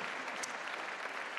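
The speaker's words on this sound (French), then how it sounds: "Les gens sont là et puis ils applaudissent." Studio audience at the Téléthon clapping steadily, a dense, even patter of many hands with no break throughout.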